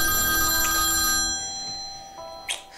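A phone rings in a tense domestic scene from a Latvian drama series, a steady electronic ring that runs loud for over a second, then cuts off, followed by quieter room sound and a brief click.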